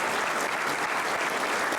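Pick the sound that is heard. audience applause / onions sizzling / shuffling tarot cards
audience applause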